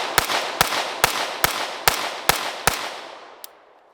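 A Staccato C 4-inch pistol fired at a shooting range: seven sharp, evenly spaced shots about half a second apart, then a fainter metallic click as the sequence ends.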